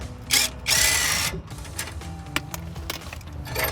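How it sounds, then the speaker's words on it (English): A hand tool works the exhaust clamp on the axle-back muffler of a 2011-2014 Mustang, starting with two loud, close mechanical bursts followed by quieter clicks and clinks. "You wanna just take this clamp off."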